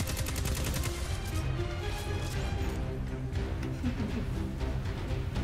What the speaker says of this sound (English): I think this is the pulse rifle.